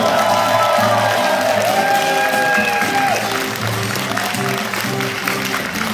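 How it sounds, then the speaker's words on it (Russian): Steady audience applause fills a concert hall during a solo concert, continuous even clapping with some cheering, under a sustained musical tone. "И по вашим аплодисментам хочется понять мне, как вам было"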